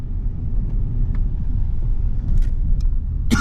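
A 1992 Ford Taurus rolls along city streets in Montreal, giving a steady low rumble of engine and road noise from inside the cabin, with a few faint clicks and a brief brighter rattle at the end.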